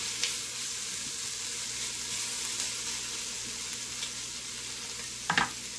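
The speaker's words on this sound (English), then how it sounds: "So these are sauteed just nice. I just send it up onto high." Onions for French onion soup sauté on high heat, producing a constant close hissing sizzle with a couple of faint stirring clicks near the end.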